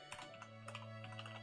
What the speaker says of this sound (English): Let's type the same thing